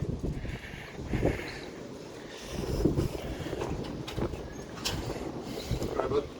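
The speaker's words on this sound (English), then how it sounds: "it's windy" Gusty wind buffets the microphone in uneven rumbling bursts, with faint voices and movement underneath.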